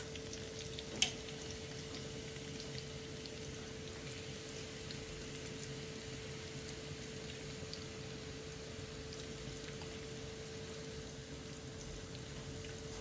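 Onion frying in oil in a pan for a koi fish curry, a steady low sizzle and bubbling that stays even and fairly quiet throughout, with one brief clink near the start and no talking.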